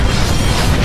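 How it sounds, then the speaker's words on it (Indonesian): Loud, dense explosive roar from spirit cannons being destroyed in an anime battle, a continuous booming rumble that fills the whole short moment without letting up. "berhasil menghancurkan meriam-meriam tersebut"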